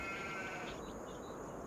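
Sheep bleating in Farming Simulator 25, a quiet, drawn-out nasal bleat over a faint steady background hum.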